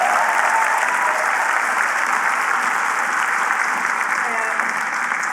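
A large audience applauds steadily at an evening panel event, a dense, even wash of clapping that holds at a constant level from start to finish.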